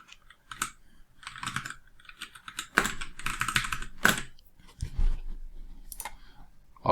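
Bursts of typing on a computer keyboard, with irregular clusters of clicks and a few louder key strikes, close and fairly quiet with no talking.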